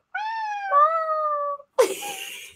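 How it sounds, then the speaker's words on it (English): A small black house cat gives a drawn-out, wavering meow that slides downward in pitch, followed after a brief pause by a short, harsh hiss-like outburst, loud and close. "He's my little black kitty boy."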